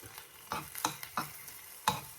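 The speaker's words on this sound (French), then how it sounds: "Là je vais juste la faire passer dans la poêle pour enlever l'eau" A vegetable being dry-fried in a pan to cook off its water, with a faint background sizzle and a few distinct scraping stirs spaced unevenly, close and quiet, with no talking.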